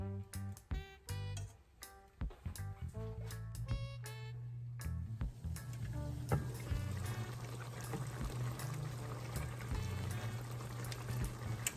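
Coconut curry fish simmering in a covered pot: after a stretch of plucked background music, a steady bubbling, gurgling wash of boiling liquid rises and continues under the music.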